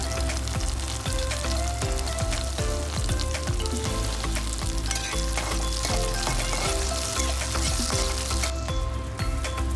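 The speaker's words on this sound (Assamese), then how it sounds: "বিলাহীখিনি অকণমান সময় ভাজি" Onions and chopped tomatoes fry in a pan with a dense, continuous sizzle and crackle. Stirring scrapes sit under it all the way through, and no voice is heard.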